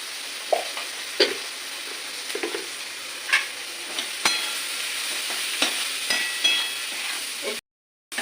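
Puti fish and brinjal with turmeric frying in oil, a steady soft sizzle broken by repeated scraping stirs of a spatula in the pan, fairly quiet and close, with no talking.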